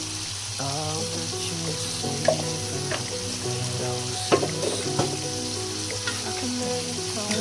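A pan of food sizzles loudly after sugar is added, with spoon scrapes and clinks as it is stirred, over a steady hiss and a faint background tonal hum from another appliance.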